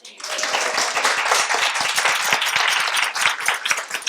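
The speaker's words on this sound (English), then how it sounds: "Can we give another round of applause?" Audience applause at a women's forum on lifelong learning, a dense, steady wash of many hands clapping close by, sustained evenly for about four seconds.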